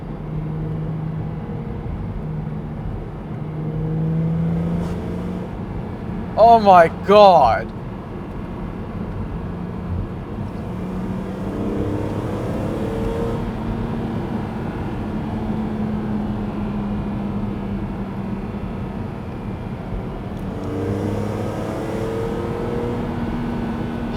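A BMW Z4 M Roadster with the top down pulls along the road, its engine rising and falling through revs, while a voice exclaims loudly partway through.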